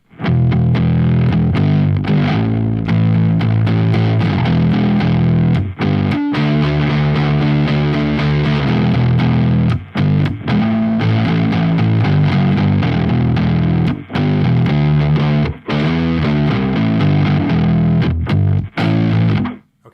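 Instrument run through a Polyoctaver effect set to sub octave down with the dry signal removed, a thick, heavy, distorted and octave-deepened tone playing continuously with brief gaps and no talking.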